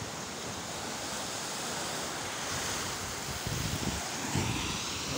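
Steady roar of ocean waves breaking on a beach, a continuous wash of surf with gusty wind noise on the microphone and a few heavier swells near the end.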